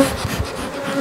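Honeybees buzz steadily around an opened hive at an apiary in Saint-Cyr-sur-Mer, a close, continuous droning hum with no voices.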